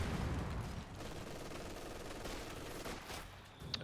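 Machine gun team firing in the World War II strategy game Company of Heroes 2, dense overlapping bursts of gunfire mixed with battle noise, loud and continuous, heaviest at the start and staying busy throughout.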